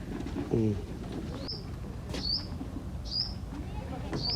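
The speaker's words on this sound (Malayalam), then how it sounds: "അപ്പോൾ നിങ്ങൾക്ക് കേൾക്കാൻ പറ്റും നല്ല കുറേ പക്ഷികളൊക്കെ കരച്ചിൽ." Birds call around a mangrove area at evening, with a brief low cooing near the start followed by several short high chirps spaced about a second apart, faint against steady outdoor background noise.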